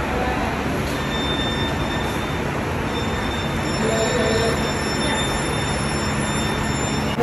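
Metro train passing through a station, a dense continuous rumble of wheels on rail with faint high squealing tones running across it, steady and fairly close with no talking.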